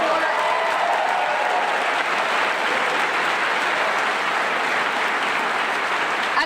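A large audience at a live event at Texas A&M University applauds continuously, a thick, steady wash of clapping at a consistent loud level, with faint voices mixed in.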